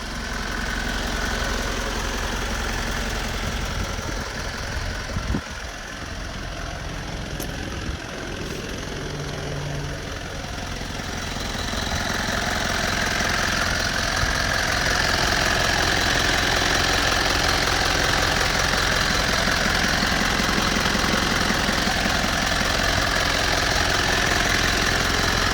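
Mitsubishi FE84 truck with a 4M50 diesel engine running steadily at idle, a continuous close mechanical drone with a slight knock that grows a little louder partway through, no voices.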